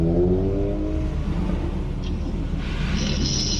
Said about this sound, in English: Yeah, there's a RX-7 coming out.